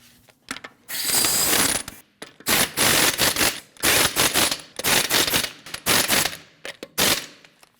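Ratcheting wrench snugging the lug nuts on a 2012-2016 Honda CR-V front wheel, fast rattling click bursts repeated in several close, loud spurts with short pauses between.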